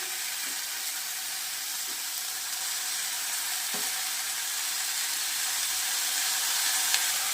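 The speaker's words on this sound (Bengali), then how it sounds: "এবারে আমি শাকটা দিয়ে দিচ্ছি মানে পাতাগুলোকে দিয়ে দিচ্ছি" Bottle gourd leaves land on nearly cooked potatoes in a hot pan, giving a steady, even sizzle that holds throughout and grows slightly louder toward the end, with a few faint soft clicks.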